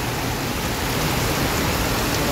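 Dense, steady hiss of heavy rain pouring down, loud and unbroken throughout.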